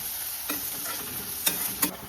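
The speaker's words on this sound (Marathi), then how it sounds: "आता हे अद्रक सुद्धा छान परतून घ्यायचं आहे तेलामध्ये फोडणीमध्ये" Steady hiss of ginger paste frying in hot oil, with a few scraping stirs of a spoon against the pan; no voices.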